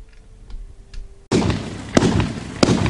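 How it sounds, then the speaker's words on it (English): A Big Fireworks 500 gram cake, Summer Shine, fires outdoors: after a quiet lead-in a sudden loud burst starts a continuous crackling roar, with sharp reports punctuating it. "There you go, Big Fireworks 500 gram cake"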